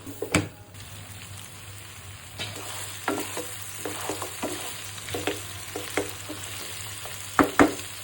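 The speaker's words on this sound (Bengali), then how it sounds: "একটু ঢেকে দিব আর একটু কষাবো" Beef is sautéed in a pan, with steady sizzling under repeated sharp scrapes and clatters of stirring, close by and with no talk.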